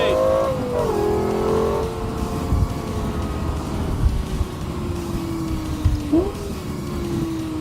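A Lexus LFA Spyder engine drives hard on a race track, a sustained mid-pitched engine drone that climbs steadily with a couple of sharp gear-change shifts, fairly loud and continuous.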